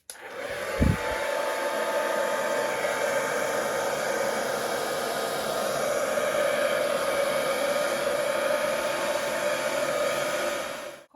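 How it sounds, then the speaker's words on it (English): A hair dryer blows steadily and loudly over wet acrylic pour paint for the whole stretch, a constant whooshing roar after a brief click as it switches on. "I'm going to blow it out with the hairdryer"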